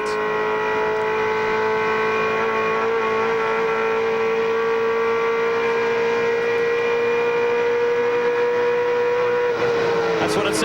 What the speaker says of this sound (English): That's what it sounds like to take the chase at 290 kilometres an hour. On board, the number one, the championship winning car of Mark Scaife.